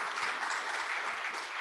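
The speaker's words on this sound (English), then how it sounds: "let me ask that you put your hands together" Audience applause closing a church panel discussion session, a steady dense wash of clapping holding evenly throughout with no voices over it.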